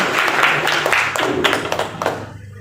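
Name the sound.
audience applause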